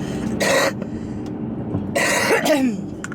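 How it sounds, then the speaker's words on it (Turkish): Two harsh, raspy coughs from a woman with a lingering cough, close by, separated by about a second of quiet room noise, the second one longer and ending in a throaty rasp. "Ay şu öksürük de gitmedi gitsin ya."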